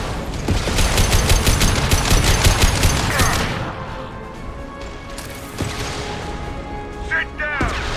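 Heavy gunfire and a high-impact weapon shot in the sci-fi shooter Mass Effect 2, with dense rapid bursts for about three seconds, then scattered sharper shots and clanks among softer game sounds, with voices over the top.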